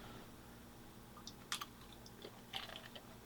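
Crunchy See's Candy chocolate waffle is chewed close up, with a few faint crisp crunches over a steady low background hiss.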